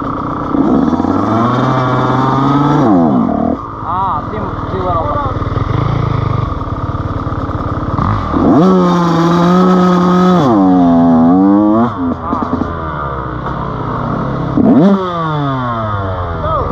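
A 125cc dirt bike revs repeatedly during riding training, the engine rising and falling in sharp bursts while the clutch is ridden, loud and close, with a voice talking between revs.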